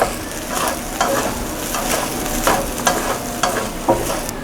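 A spatula scrapes and tosses shrimp fried rice in a hot pan with a sesame oil finish, giving a steady soft sizzle broken by about half a dozen sharp scraping strokes at regular intervals, with no talking.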